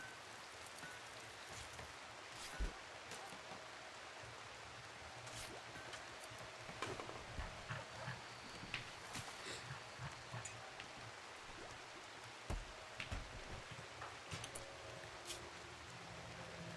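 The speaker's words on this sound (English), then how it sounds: "Oh, now it's raining inside." Steady rain falls inside a RimWorld colony building left unroofed, a continuous soft hiss spotted with scattered sharper drops and taps.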